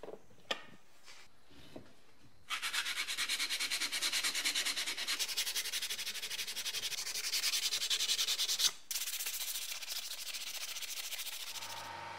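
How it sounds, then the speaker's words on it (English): Steady, continuous abrasive sanding on the wooden handle of a 110-year-old Disston & Sons hand saw, a rough rhythmic rubbing that runs for several seconds with a brief pause, close up and fairly loud, no talking. "I'm going to get back to the sanding."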